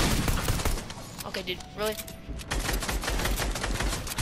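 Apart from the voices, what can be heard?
gunfire aimed at the player in the video game Fortnite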